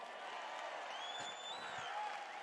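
A rally crowd at a Milwaukee campaign event applauds and cheers continuously, a steady distant wash of clapping with scattered whistles and shouts, no single voice standing out.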